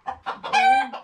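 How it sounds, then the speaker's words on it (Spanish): Hens at a small backyard flock in Guatemala give a quick series of close, loud clucks and squawks, a few short calls rising into one longer drawn-out cackle before a final cluck. "ahí están las gallinas."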